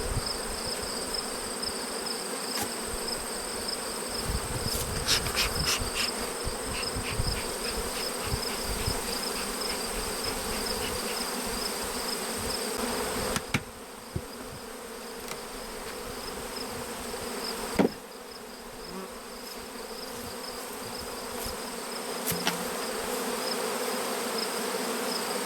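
Dense, steady buzzing of many honeybees fills the air at close range, with occasional clicks and knocks, no voices.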